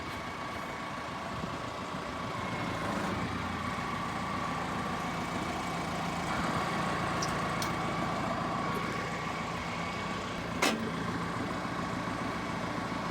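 A forklift engine, freshly fitted with repaired brakes, runs at a steady idle while it unloads, a low continuous hum with a faint whine on top and a sharp metallic clank near the end.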